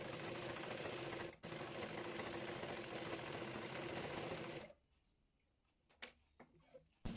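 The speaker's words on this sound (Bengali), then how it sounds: "পেপার পেস্টিং গলার ডিজাইনটি একটি কাপড়ের উপরে রেখে চারপাশ ঘুরিয়ে ঘুরিয়ে সেলাই করে আটকে নেব।" An electric sewing machine stitches a paper-pasted neck design onto fabric, running in a loud, steady whir for almost five seconds before stopping, followed by a few small clicks and handling sounds.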